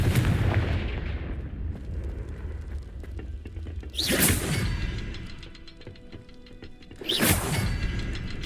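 The Confringo explosive spell from Hogwarts Legacy goes off in three loud booming blasts, each with a sharp whooshing crack, separated by a few seconds of low rumbling game ambience.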